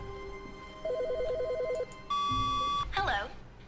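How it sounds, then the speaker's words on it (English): A telephone rings inside The Stanley Parable video game, a loud steady electronic tone running unbroken for about a second after a short burst of warbling beeps, with a voice breaking in right at the end. "our phone is ringing"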